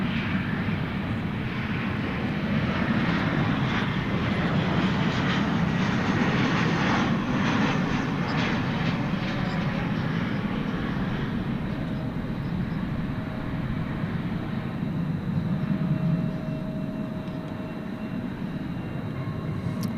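An American Airlines Boeing 737-800 arriving at Dallas/Fort Worth airport at night, inbound from Phoenix, makes a loud, sustained engine roar with heavy low rumble, fading slightly toward the end with no talking.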